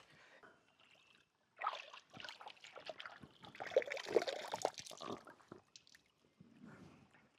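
River water flows at Brahma Ghat, a faint, uneven trickling and splashing that swells and fades in soft bursts and comes through quietly from a short distance.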